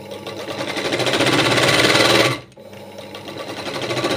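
Electric sewing machine stitching a cross strip onto a katori blouse on the lining side, a loud rapid whirring run that stops abruptly, then starts again and builds back up.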